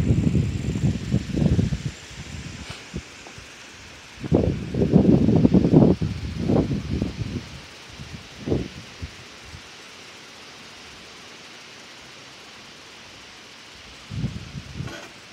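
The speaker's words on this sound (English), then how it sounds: "Windy." Wind blowing outdoors comes in loud, rough gusts buffeting the microphone, several bursts over the first eight seconds, then a long calmer stretch and one last gust near the end, with no talking.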